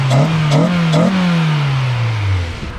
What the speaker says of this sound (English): So we'll just give it a rev test here in the driveway.